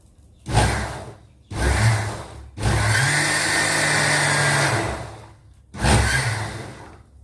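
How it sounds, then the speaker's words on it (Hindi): A mixer grinder grinding greens whirs in short pulsed bursts, then runs for a longer stretch before one more pulse, loud and close. "तो गाइस मैंने साग पीस लिया है"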